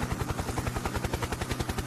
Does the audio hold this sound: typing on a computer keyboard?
no